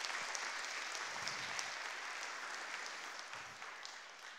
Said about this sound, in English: So please do give them another round of applause.